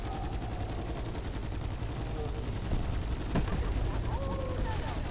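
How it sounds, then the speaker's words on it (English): Rapid machine-gun fire at the wolf boss in Call of Duty: Black Ops 4's Dead of the Night zombies mode, a dense, continuous rattle of loud shots with no pauses. "shoot the wolf with your machine gun"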